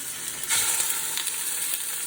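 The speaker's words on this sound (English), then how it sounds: "And now it's sizzling and it's gonna be really loud." Loud, continuous sizzling and crackling of chicken leg quarters browning in hot oil in a large stock pot, with a bright hiss and occasional popping spurts.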